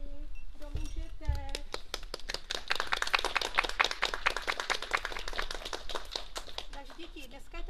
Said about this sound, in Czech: Zatleskejme Ježíškovi, kdo můžete